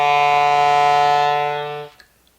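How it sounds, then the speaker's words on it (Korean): A clarinet sustains a single low-register note, steady and full, then the tone fades and cuts off with a faint click at the end. "여러분들 클라리넷 소리 굉장히 멋있어요"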